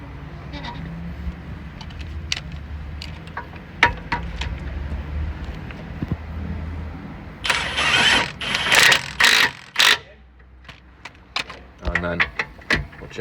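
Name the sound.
tightening bolt during BMW E46 rear spring replacement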